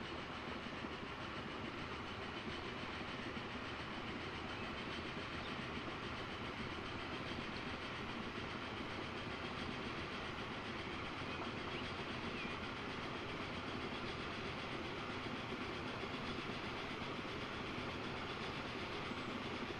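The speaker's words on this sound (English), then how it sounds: "got everything set up so that we could get the trains on" Trains rolling along the track in the Transport Fever 2 game set on a tropical map, a continuous loud rumble with steady clickety-clack running throughout, no talking.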